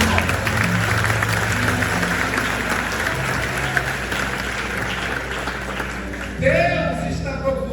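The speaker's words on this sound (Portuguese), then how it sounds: "Você pode aplaudir Jesus porque ele é bom?" A church conference audience claps in a continuous wave of applause, with a voice joining over the clapping toward the end.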